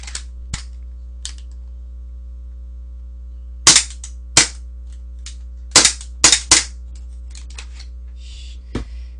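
Gas airsoft pistol, an INOKATSU M1911A1 with a chilled magazine feeding gas poorly, fires several sharp, loud cracks in an irregular sequence, some paired in quick succession, with a steady low hum underneath and no talking.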